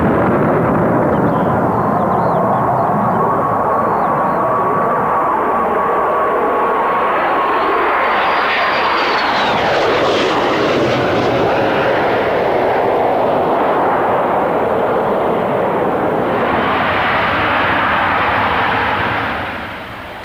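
A Harrier jump jet with a Pegasus vectored-thrust engine flies in to hover or land with its flaps lowered. A loud, continuous jet roar carries a shifting whine and swells and eases steadily for about twenty seconds.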